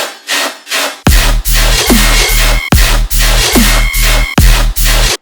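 Heavy dubstep riddim bass mix with a series of loud, chopped bass hits in a pulsing rhythm, the timbre shifting between phrases, following a brief lighter intro.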